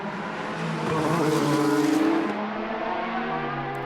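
Toyota endurance race cars, numbers 8 and 7, battle down the straight at the 2019 4 Hours of Shanghai. Their engines make a loud, sustained roar that swells as they pass and then eases slightly.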